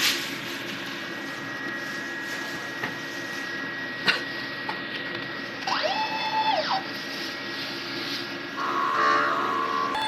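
An inkjet printer running a head cleaning cycle, a steady mechanical whir and hum with a few clicks and short rising-and-falling motor tones, close and continuous, without speech.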